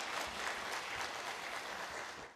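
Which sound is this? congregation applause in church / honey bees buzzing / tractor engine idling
congregation applause in church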